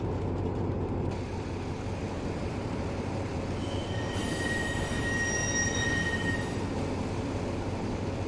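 Steel wheels of a small mini railway car squeal in Train Simulator Classic on the Taurus Mountains route, a steady rumble with a thin, high screech rising midway and fading after a few seconds.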